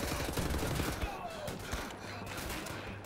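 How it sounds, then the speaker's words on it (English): Gunfire aimed at the player in Wolfenstein: The New Order, a dense burst of rapid shots and fusillade crackle in the opening second, with scattered shots continuing behind a loud, busy game mix. "Who's shooting at me? And from where?"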